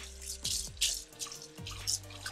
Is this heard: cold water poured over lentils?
yes